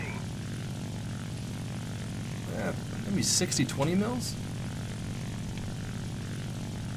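A La-9 fighter's radial engine drones steadily through a War Thunder dogfight, a constant propeller hum with a brief louder swell midway as a voice speaks over it.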